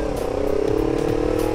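A custom cafe racer motorcycle fitted with a DB killer exhaust idles loud and close, a steady throbbing engine hum with no pauses.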